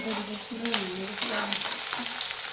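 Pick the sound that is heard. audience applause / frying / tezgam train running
frying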